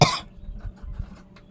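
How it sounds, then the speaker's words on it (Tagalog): One sharp, close cough bursts out at the start, followed by soft breathing and faint rustling. "Inuubo talaga ako, guys."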